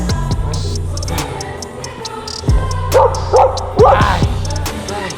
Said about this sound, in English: Doggies everywhere.